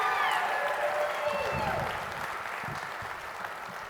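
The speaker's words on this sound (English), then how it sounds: "give them a round of applause" A fashion show audience breaks into sustained applause, with dense clapping throughout and a few whistles or musical tones drifting over it in the first seconds before it eases slightly.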